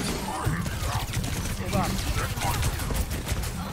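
Rapid gunfire in the online shooter Overwatch 2, a dense continuous barrage of shots filling the scene with a player talking over it.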